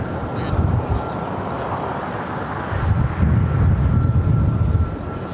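A Lufthansa airliner at Los Angeles International Airport (LAX) gives off a steady, broad jet roar. The roar swells louder partway through, with faint voices in the background.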